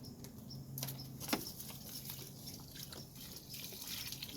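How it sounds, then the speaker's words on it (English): Plants being watered with fish fertilizer water, a soft steady splashing and trickling of liquid onto soil, quiet and close with no voices. "Just going to give it a good watering"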